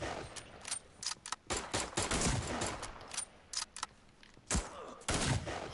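Rapid sniper rifle shots fired in the Fortnite video game, a run of sharp, loud cracks in irregular bursts, some closely spaced and others separated by short pauses.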